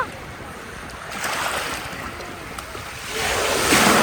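Sea waves at Mandvi beach rolling in close by, a continuous roar of surf with wind buffeting the microphone, swelling louder as a wave rushes up toward the end.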